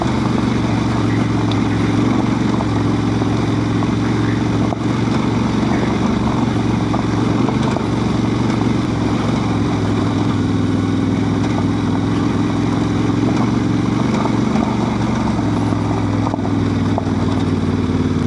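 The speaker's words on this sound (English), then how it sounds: "I'm climbing with the second gear." A Honda Transalp 750 motorcycle engine pulls uphill in second gear on a rally track, a loud, steady droning growl running continuously with wind rush and no talk.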